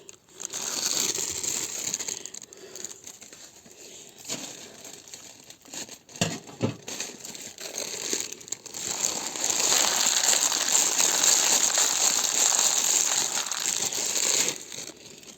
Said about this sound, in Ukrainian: І зараз трішки досиплю е, калійно фосфорне добриво.